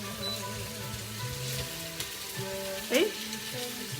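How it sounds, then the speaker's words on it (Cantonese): Chicken wings fry without oil in a Noxxa pressure cooker, a steady loud sizzle and crackle running throughout, with a brief exclamation from a voice near the end. "煎緊啊！ 因為嗰個雞翼好大聲"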